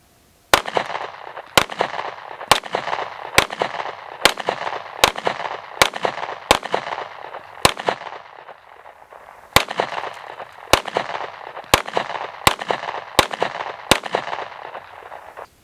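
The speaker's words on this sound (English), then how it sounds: "let's start out with hitting it with some more 9mm." Nearby 9mm handgun shots are fired into multi-hit-rated body armor, loud sharp reports in quick, fairly even succession, about fifteen shots in two strings separated by a short pause.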